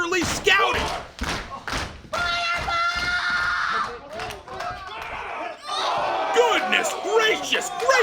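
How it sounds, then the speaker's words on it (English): A wrestler drops back-first onto the side of the ring at an intergender Limitless Wrestling match. Heavy thuds ring out amid crowd noise, shouting and commentary. "Just dropped back first on the side of the ring."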